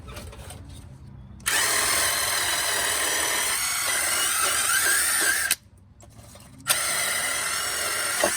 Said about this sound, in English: I just heated this joint up a little bit, wire wheel it, and hopefully break those lines free